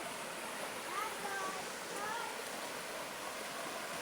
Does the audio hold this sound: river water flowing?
yes